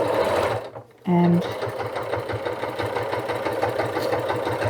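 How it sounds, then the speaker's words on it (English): A sewing machine runs steadily while stitching a small hook loop for a holiday stocking, a close rhythmic motor hum with a brief pause near the start, as a voice speaks over it. "now we're going to sew our little hook loop"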